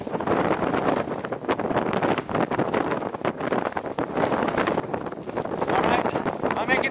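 Strong gusty wind ahead of a storm in the Faroe Islands, buffeting the microphone in loud rumbling bursts with rustling, continuous and close, with no voice over it.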